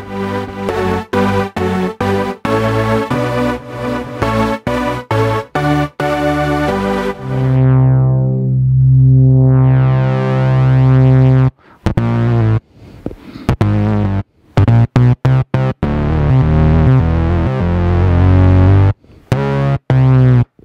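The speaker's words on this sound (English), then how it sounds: "the KingKORG filter itself, which is based on our Radius synth." A Korg KingKORG analogue modelling synthesizer plays with its KingKORG filter, modelled on the Radius synth: punchy staccato chords and bass notes, then a long sweeping filtered tone, then more rhythmic stabs, loud and with no talk.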